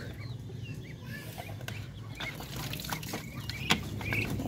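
Native Pinoy chickens in a pen give soft, scattered clucks and calls at a moderate distance over a steady low background murmur, with one sharper squawk near the end.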